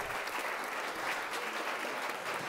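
An audience applauds to welcome curator Hans Ulrich Obrist at a talk, steady and full clapping from a sizeable crowd, sustained without pause and free of voices.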